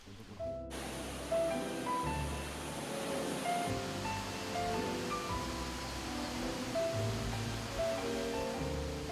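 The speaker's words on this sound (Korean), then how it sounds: "청아한 계곡물이 귀를 씻어주고" A clear mountain valley stream flows in a steady, broad rushing wash of water, continuous and moderately distant, with faint birdsong threaded through.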